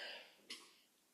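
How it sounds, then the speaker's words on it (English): A single short, sharp cough bursts out once against a quiet room, close to the mic and over in a moment. "Sorry, I had to cough."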